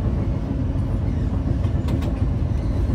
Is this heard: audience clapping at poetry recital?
no